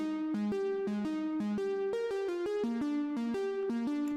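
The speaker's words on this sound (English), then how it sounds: "I added also a lead pattern, which sounds something like this" Synth lead pattern in an FL Studio drum and bass track: a bright, harmonically rich lead steps through a quick melodic sequence of short, evenly spaced notes, loud and continuous with no voices.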